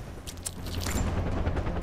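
Gunfire in the video game Far Cry 4 during an airport assault, a dense continuous barrage of shots with a heavy low rumble, loud and sustained throughout.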